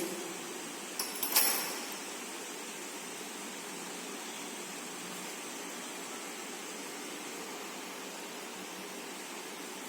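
Water runs steadily over lab glassware during a rinse after an EDTA titration for calcium oxide in cement solution, a soft continuous hiss that starts with a couple of brief clinks and splashes and then stays even.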